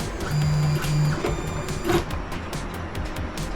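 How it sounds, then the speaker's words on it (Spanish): A 3D printer starts printing a logo, its stepper motors giving off steady tonal whines and hums with a few short mechanical clicks, close and fairly loud, with no one talking. "aquí hay un logo y lo vamos a imprimir"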